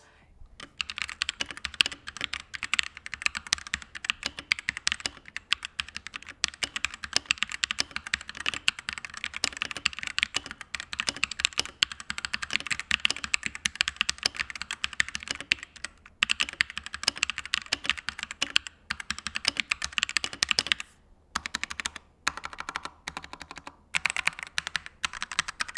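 Continuous typing on a Rexus Daiva D87 wireless mechanical keyboard, a dense, steady patter of close key clacks with brief pauses, running alone for about twenty-five seconds.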